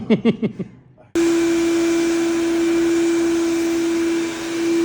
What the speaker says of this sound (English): Now I got Dan shop vacuuming up the larger area of the stripper.